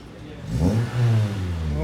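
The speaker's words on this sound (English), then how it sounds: "Don't be revving shit up." A 2005–2006 Toyota Corolla XRS engine revs up twice in short succession, each rise climbing in pitch before easing back to idle, close and fairly loud.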